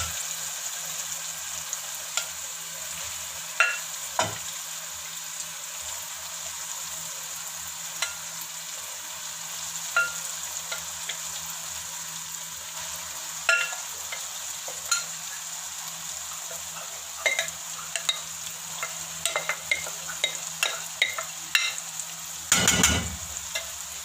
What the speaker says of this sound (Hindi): अब हम इसमें ऐड करेंगे साबुत सब्ज़ मिर्च। तो थोड़ा सा हिला लेते हैं